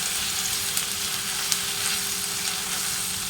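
Chopped onion frying in hot oil for a simple paneer capsicum gravy, giving a steady, close crackling sizzle with a few small pops and no voices.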